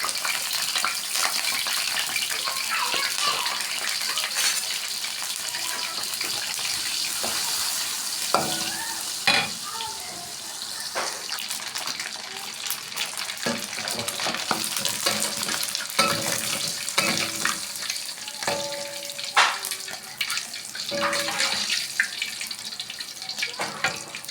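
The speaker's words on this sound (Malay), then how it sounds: "Kita gorengkan dulu ikan bilis ni." Dried anchovies fry in a pan with a continuous crackling sizzle, broken by scattered clinks and scraping sounds as they are stirred. The frying goes on steadily without any talking.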